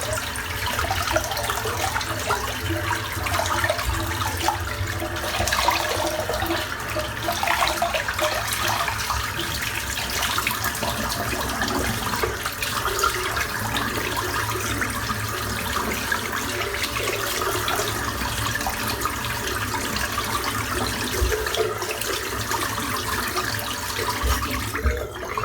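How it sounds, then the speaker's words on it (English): Tap water runs steadily into a sink while a CB safety razor is rinsed after shaving, a continuous close splashing rush that lasts throughout with no talk. "I'm just going to rinse this out."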